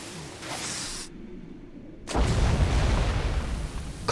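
A loud, low explosion in the video game Alan Wake bursts in after a brief hush and rumbles on for about two seconds, with game sound and faint talk before it.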